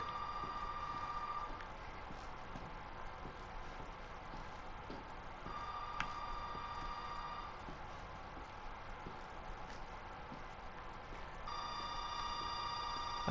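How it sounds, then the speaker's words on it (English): Intermittent electronic telephone ring inside the Resident Evil 7 demo on PS4, repeating in short bursts over a steady low ambient rumble, moderately loud with no talk over it. "There's a phone call."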